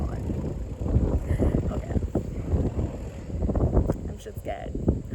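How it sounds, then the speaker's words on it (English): Strong wind outdoors buffets the microphone in heavy, gusting rumbles that surge and ebb throughout, while a person speaks briefly over the noise. "it is so windy"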